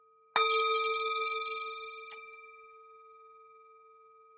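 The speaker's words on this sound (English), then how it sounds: "The sound of this beautiful bell returns us to the sweetness of silence." A single struck meditation bell rings once with a bright clang, then a slow shimmering decay that fades over several seconds in near silence.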